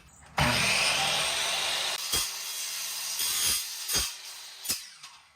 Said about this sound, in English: this is a carbide tip blade, so even though it's technically woodworking, we believe it'll work just fine with soft aluminum